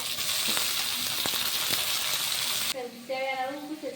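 Chopped tomato goes into onions already frying in a pan for chapati kurma, a steady bright sizzle that suddenly drops away, after which someone talks over the quieter cooking.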